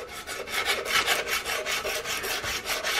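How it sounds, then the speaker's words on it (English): File-backed sandpaper scraping and sanding wood and metal on a rifle build, with rapid rhythmic back-and-forth raspy strokes, close and steady, with no talk. "coming in here and scraping and sanding wood and metal all in one go"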